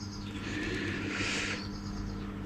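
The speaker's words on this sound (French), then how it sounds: "Et même les merles et tout, tu les entends?" Blackbirds sing faintly outdoors, their calls thin and distant over a steady low mechanical hum, with no voices in this short stretch.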